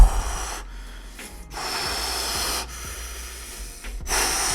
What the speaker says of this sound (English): You hear him breathing?